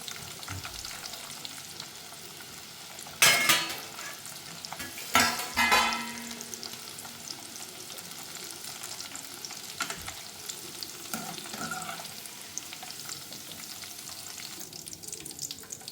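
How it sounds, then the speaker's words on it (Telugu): Corn kernels deep frying in hot oil give a steady bubbling sizzle, broken by a few sharp loud crackles and stirring clatters, with no talking. "ఆయిల్ బాగా హీట్ అయ్యాక డీప్ ఫ్రై చేసుకోవాలి"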